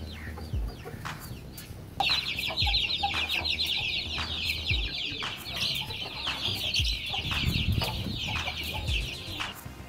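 Adult roosters cluck and chatter close by on a farm, with a dense run of high bird calls through most of the stretch and scattered thumps and low noises beneath.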